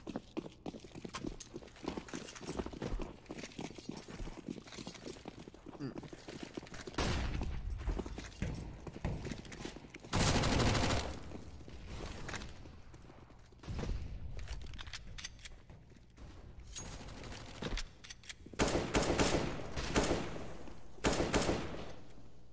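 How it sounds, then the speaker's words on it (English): Rapid bursts of rifle fire in a Counter-Strike: Global Offensive match on the map Mirage, with clustered volleys and clip-clop footstep patter between them, moderately loud, with no talk. "SXC changing to burst fire, and he's going to find it as well"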